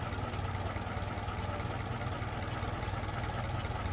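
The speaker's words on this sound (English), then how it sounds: "Here's our little ground power cart here." A small ground power cart runs steadily beside a business jet on the apron in Microsoft Flight Simulator 2024, its simulated engine giving a continuous low idling drone with no break across the whole stretch.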